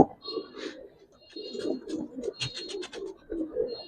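Giribaz pigeons give soft, close coos in short rolling bursts with brief gaps between phrases, fairly quiet throughout.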